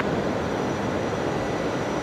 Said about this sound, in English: Very quiet on the reverse thrust.